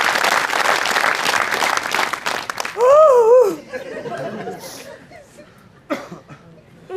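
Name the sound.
audience applause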